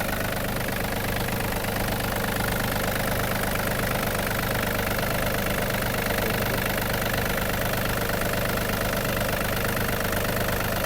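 A Yanmar RS-300 mini diesel tractor engine idles steadily, with a low, even chugging rumble that holds constant throughout, close by and with no voices.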